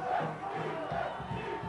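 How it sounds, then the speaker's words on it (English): A crowd at a 1988 high school football game between Shelton and Newington chants rhythmically for defense, a steady mass of voices rising and falling. "Hear the chant from the crowd,"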